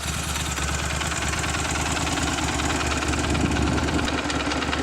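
A restored 2003 Moto Guzzi V11 motorcycle idles at about 1100 RPM, a close, loud, steady throbbing rumble with an even pulsing beat and no talking.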